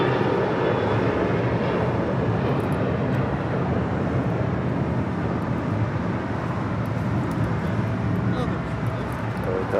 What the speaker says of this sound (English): Taking off there, that was United Airlines flight 1621 heading to Orlando, Florida, in a 737-900ER.